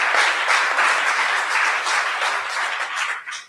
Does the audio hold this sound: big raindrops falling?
no